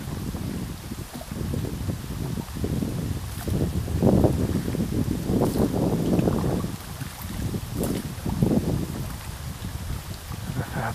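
Gusty storm wind on a river buffets the microphone in rough, rising and falling surges over faint water sounds, with no speech.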